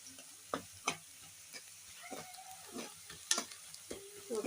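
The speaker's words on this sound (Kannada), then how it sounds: "ಚೆನ್ನಾಗಿ ಸ್ವಲ್ಪ ಫ್ರೈ ಮಾಡ್ಕೊಂಡ್ಬಿಡೋಣ. ಈರುಳ್ಳಿ ಚೆನ್ನಾಗಿ ಫ್ರೈ ಆಗಿದೆ" Chopped onions frying in a pan for a ridge gourd and potato palya, with faint sizzling and several soft scrapes of a stirring spoon, close and quiet, no talk.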